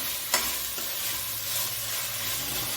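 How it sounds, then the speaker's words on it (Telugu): Peas and tomatoes are stirred through in a pan for veg biryani, a steady bright sizzle with one short spoon clack near the start and soft stirring beneath. "బఠానీ, టమాటాలు అన్నీ వేసుకొని మొత్తం కలుపుకుందాం."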